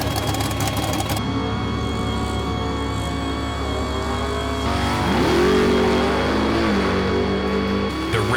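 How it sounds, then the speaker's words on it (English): Drag racing cars fired up at Atco Dragway, engines idling loudly with a rising rev sweep midway, steady mechanical drone and a throttle blip near the end. "The cars are unloaded, fired up, and prepped for an intense weekend of racing."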